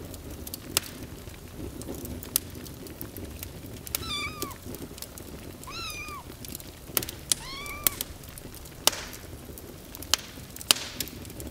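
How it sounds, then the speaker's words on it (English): A scrawny black kitten meows loudly in several short, rising cries, sounding close, over a rough background of crackling and sharp knocks, with no talk. "a scrawny and quite miserable-looking black kitten that meowed loudly in protest at the sleet."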